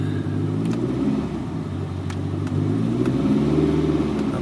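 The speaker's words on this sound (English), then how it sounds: "I'm going to do a bit of brake testing to make sure that the brakes are functioning before I go out on a major street." A 1983 VW Rabbit GTI drives during brake testing, its engine humming steadily and rising slightly in pitch, with faint clicks over the low rumble.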